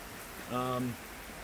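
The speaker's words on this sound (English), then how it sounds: "Yeah, it's really raining." Steady rain falls outdoors during a satellite radio antenna installation, a constant soft hiss that runs through the whole moment while a voice speaks briefly over it.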